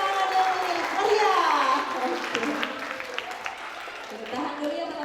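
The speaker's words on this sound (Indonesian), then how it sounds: "Sekali lagi berikan tepuk tangan dari Maria." An audience at a school graduation and farewell ceremony claps in a sustained, moderate round of applause while a voice talks over it.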